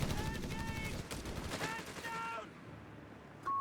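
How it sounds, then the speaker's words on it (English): Heavy machine gun fire in Company of Heroes 3, heard as rapid bursts of rattling shots amid the din of battle, with a voice talking over part of it. "This is a Vet 3 heavy machine gun."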